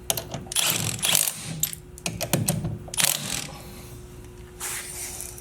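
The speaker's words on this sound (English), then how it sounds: "So let me bolt this up real quick." Ratchet clicking in several quick bursts as lug bolts are run in on a car wheel with a 5 mm spacer, close and fairly loud with short pauses between.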